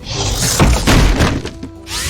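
A freeze ray attack strikes in a turn-based video game battle: a dense, crunching impact with icy shattering texture lasting about two seconds, loud and up close with no talking.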